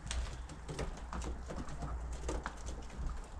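Pigeons roost inside an abandoned building, with soft cooing, fluttering and scuffing in a hollow, echoing space. The sounds are faint and scattered, with low rumbling room noise underneath.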